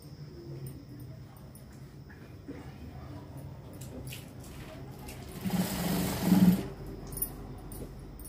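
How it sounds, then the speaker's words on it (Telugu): A sewing machine stitches a long frock seam, its faint, steady hum running under room noise before swelling into a louder burst near the end. "ఆ మార్కింగ్ బేస్ చేసుకొని స్ట్రైట్గా కుట్టు వేసుకోవాలి"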